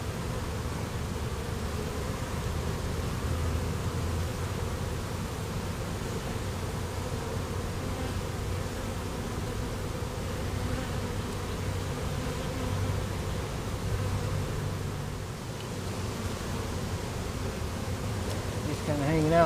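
A dense, continuous buzz of many bees fills the air, steady and close, without pauses.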